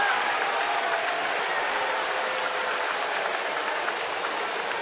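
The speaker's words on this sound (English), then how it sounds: "the Bronx cheer here at Camden Yards" A baseball crowd at Camden Yards giving a Bronx cheer, a broad, steady roar of thousands of fans booing and jeering, loud and unbroken for the whole stretch.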